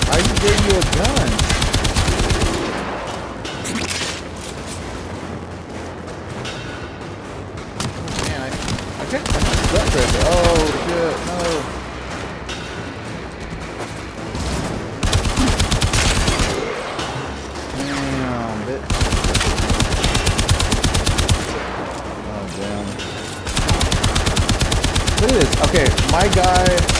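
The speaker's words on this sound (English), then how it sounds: "Shoot at him, then, homie." Sustained automatic gunfire in the Warframe video game, loud and close, coming in long dense bursts with short lulls between them, with a voice talking at times.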